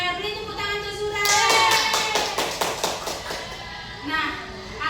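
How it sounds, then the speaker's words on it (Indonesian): Classroom pupils clap together for a classmate in a teacher-led lesson, a burst of sharp, evenly spaced claps rising over voices and then fading as talking continues. "beri tepuk tangan untuk Zura"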